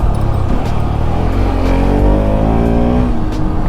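A Pulsar RS200 motorcycle with a modified exhaust revs loudly up close, a deep, throaty engine roar that swells and climbs in pitch, with a few sharp crackles riding over the steady rumble.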